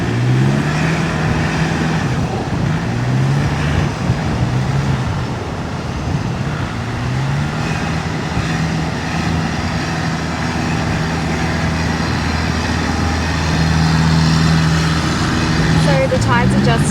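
A packed 4WD car drives along a soft-sand beach, its engine giving a steady, loud rumble with road and wind noise throughout, and the engine tone rises and falls slightly as it moves.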